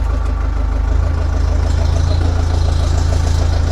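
A farm vehicle engine running close by with a steady low rumbling idle and rapid even pulsing throughout, no voices.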